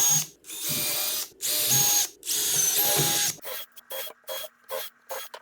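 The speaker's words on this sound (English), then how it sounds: "I'm going to drill 5 holes on this side of the apron and then repeat on the other side." A power drill bores holes into the wooden apron of a rustic coffee table, whirring in several long bursts and then a run of short, sharp stop-start pulses, loud and close.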